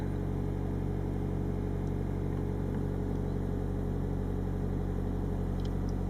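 A car engine idles steadily right after a new oxygen sensor was fitted, a loud, even, unbroken hum close to the listener with no revving and no voices.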